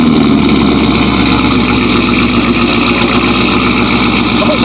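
A 750-horsepower Camaro ZL1 with Kooks headers, AWE tuning and a 3-inch full catback exhaust with 4.5-inch tips rumbles at a loud, close, steady idle, a deep throbbing burble with no voices.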